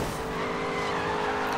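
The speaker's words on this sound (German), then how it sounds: "Am Anfang zieht er ja doch ganz gut los, der SLR McLaren. 722 GT." A McLaren SLR 722 GT race car accelerates in GRID 2, its engine a loud, close, rising roar with tyre noise layered on top, steady and unbroken for a short burst.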